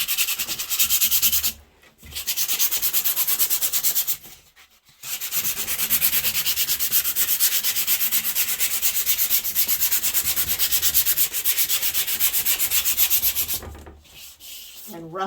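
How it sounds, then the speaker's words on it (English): Steady hand sanding of a gessoed painting surface with 240 grit sandpaper, a continuous dry rasping scrub that runs almost nonstop, broken by two short pauses and tapering off near the end. "I'm just going to take this 240 sandpaper"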